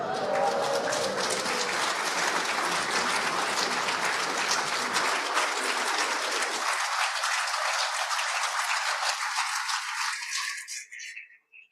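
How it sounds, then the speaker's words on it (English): A congregation at a Shabbat morning service applauds a woman's 102nd birthday with steady, full clapping that holds for about ten seconds before fading out. "The applause is wonderful and well merited."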